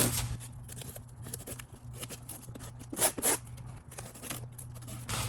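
Cardboard box of car parts being opened nearby, a run of quick ripping and scratching bursts of tape and cardboard, irregular and close, with louder tears toward the middle.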